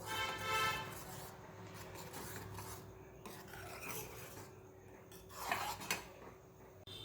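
A spoon scrapes and stirs thick rice and jaggery kheer in a pot, with steady rasping strokes against the metal and occasional clinks, close and fairly quiet.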